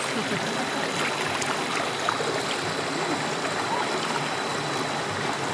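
Steady broadband rush of a flowing stream, continuous and even, heard up close with no breaks.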